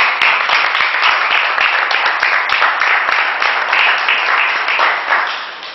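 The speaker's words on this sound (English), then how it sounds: "So please, let's clap for you." A stress-management class applauds together: dense, steady clapping from a group, close and loud for about five seconds before fading slightly at the end.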